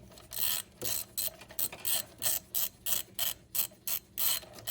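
Fuel injector removal tool from ZKTool being screwed in on a 2010–2021 Range Rover L322/L405, giving a steady run of close, crisp ratchet clicks in short repeated bursts, with no talking.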